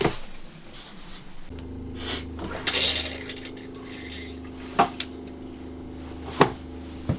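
An RV toilet in a Geopro camper is flushed with a foot lever, water running and gurgling with a steady low pump hum, a couple of sharp clunks and drips as the bowl fills and empties.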